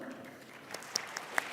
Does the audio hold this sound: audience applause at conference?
yes